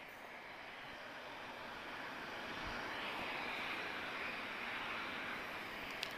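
Airbus A320neo jet arriving at Lisbon Airport, a faint distant engine roar with a hissing whine that slowly builds and stays steady, with no talking.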